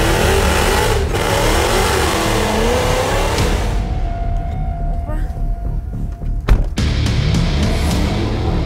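Dodge Challenger engine revving and pulling hard at close range, a loud rising roar that drops off midway into quieter running with sharp bursts, while people talk over it.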